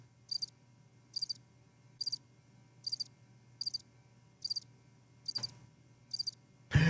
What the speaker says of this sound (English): are you able to hear the crickets in the background now?